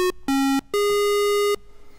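A Eurorack modular synthesizer oscillator, run through a Siam Modular VLH utility module, sounds three sustained, buzzy, harmonic-rich tones in a row, separated by short gaps. The pitch steps down and then back up, and each tone is loud and clean against a quiet background.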